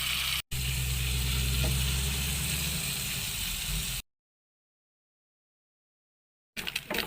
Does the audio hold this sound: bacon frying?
yes